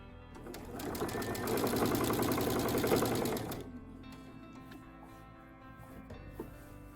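A sewing machine stitches binding onto a quilt edge in a fast steady mechanical whir for about three seconds, then stops, leaving a quiet room with faint clicks.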